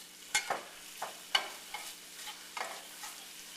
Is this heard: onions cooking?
yes